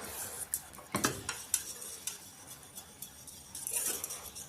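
A spoon stirring a thick milk dessert mixture in a bowl, with a few distinct clinks and scrapes against the sides, close and fairly quiet.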